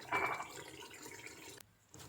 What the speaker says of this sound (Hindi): मैं हाफ कप पानी ऐड कर रही हूँ।